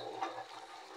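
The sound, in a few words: strong water flow from repaired village water line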